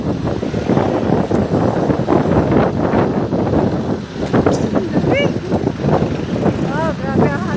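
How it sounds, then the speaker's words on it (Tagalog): Strong wind roars and buffets the microphone on a street at a crossing in Tagaytay City, with traffic nearby. The rumble is continuous and gusty, and voices talk through it. "Oh, grabe ang hangin."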